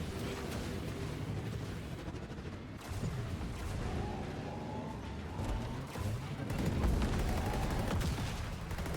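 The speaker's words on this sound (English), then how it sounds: "These ships absolutely exploding everywhere." Ships explode in the Cardano Clash video game, a dense barrage of booming blasts and crackling bursts that runs loud and continuous throughout.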